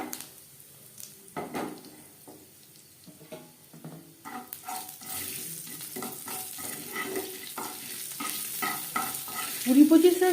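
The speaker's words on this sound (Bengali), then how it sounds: "কুড়ি 25 সেকেন্ড ভেজে নেব।" Dried red chilies and five-spice seeds tempering in hot oil in a pan that was just used for frying eggs: a soft sizzle that grows louder, with stirring scrapes and clinks and no talking.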